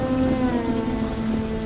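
Rain falling in an animated story scene, a steady even hiss of rainfall with a faint tonal hum underneath, continuous and fairly loud.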